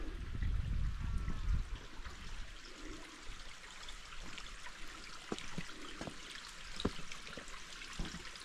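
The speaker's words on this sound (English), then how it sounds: "Water running in there." Water trickles into a small rock pool beside a creek, a soft, steady outdoor splashing with brief louder gurgles and low rumble at the start.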